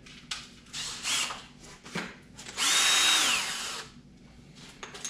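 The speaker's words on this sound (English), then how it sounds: "And you're going to drill it in." Power drill driving a 1 inch bit into a wall for a keyhole picture hanger, with a close, whining motor buzz in short bursts that builds to a louder sustained grind before easing off.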